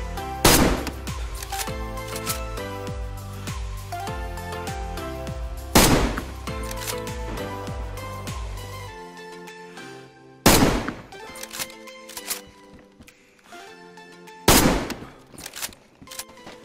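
Gunfire in the survival video game DayZ: several sharp, loud shot bursts at irregular intervals cut through a steady bed of game sound, with quieter gaps between them.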